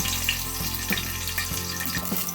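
Mustard seeds, cumin and crushed garlic frying in a couple of spoons of hot oil for capsicum rice, a steady close sizzle with faint popping, no talking.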